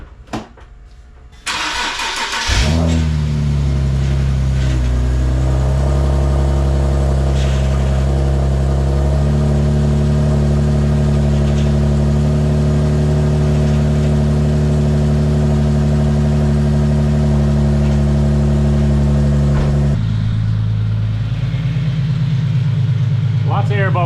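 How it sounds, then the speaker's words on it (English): A drift-build car engine cranks and catches, then settles into a steady, loud, close idle that runs for about seventeen seconds before dropping in pitch near the end. "So I'm gonna let this thing sit here and idle for a little bit and see if we get any leaks."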